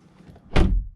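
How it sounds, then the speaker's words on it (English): A BMW 220i Gran Coupe door swings shut with a single close, solid thunk after a brief quiet lead-in. "In terms of how strong or how solid the doors sound"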